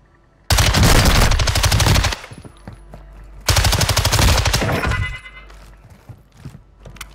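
Gunfire in the video game DMZ comes in two long, loud bursts of rapid automatic fire with a short pause between them. Quieter game noise fills the gap and trails off after the second burst.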